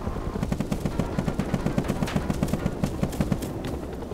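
Rapid bursts of heavy machine-gun fire from a video game helicopter rattle steadily for several seconds, loud and close, with a rhythmic hammering pattern and no talking.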